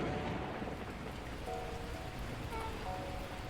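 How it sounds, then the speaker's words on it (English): Torrential rain pours in the video game Beacon Pines, a dense, continuous roar of water with low rumbling thunder underneath and faint tonal game sounds drifting through. "At that moment, the heavens opened up, unleashing torrential rain."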